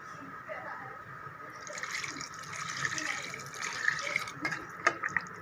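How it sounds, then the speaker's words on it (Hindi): Water pours into a pot of arbi (taro root) and masoor dal, a steady trickling splash that grows fuller and louder over several seconds, ending with a few sharper drips and clinks. "अब मैं इसमें पानी ऐड करूँगी।"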